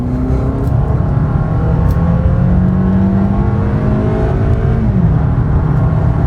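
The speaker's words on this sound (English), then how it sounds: "So just give it a little throttle test here." A 2023 Toyota Camry SE with an 8-speed automatic accelerating hard in sport mode at night, steady loud engine drone rising in pitch through smooth quick gear shifts, heard from inside the cabin.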